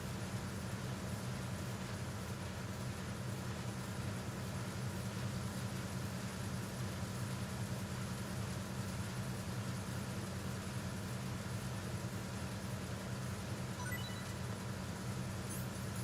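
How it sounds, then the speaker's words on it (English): Engines drone continuously in the Metal Gear Solid 2 video game, a steady low rumbling hum held at even loudness with no pauses. "The sound of the engines should muffle the gunfire,"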